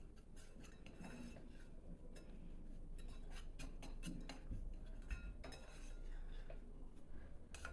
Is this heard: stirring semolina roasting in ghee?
yes